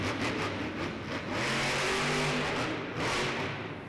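El Toro Loco, a monster truck, revs its engine in an indoor arena event, the roar rising and surging over a couple of seconds amid steady crowd noise.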